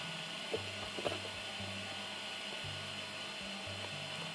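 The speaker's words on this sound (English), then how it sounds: "The printer homes itself." A Prusa MK2S 3D printer homing itself, its stepper motors giving steady tonal whirs in short runs that stop and restart, with small clicks between the moves, close and moderately quiet.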